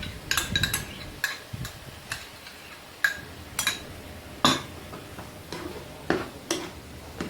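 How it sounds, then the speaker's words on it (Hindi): Remaining minced kebab mixture for Turkish Ali Nazik being stirred and mixed in a bowl, with irregular light clinks and taps of a utensil against the dish, close and fairly quiet, no talking. "अच्छे से इसको मिक्स कर लें।"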